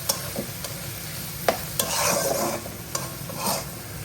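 Green chilli and tomato with turmeric sauté in a hot pan, a low sizzle broken by several sharp spatula scrapes and knocks against the metal, close and clear with no voices.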